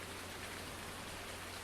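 Rain in Farming Simulator 19 falls as a soft, even hiss, steady and unbroken throughout, with no other sounds.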